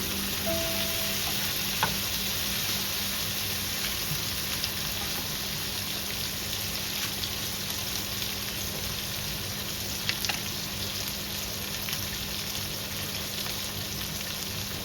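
Beef pieces with onions fry on high heat for a bhuna curry, giving a steady, dense sizzle that continues evenly throughout with occasional small pops and no voices.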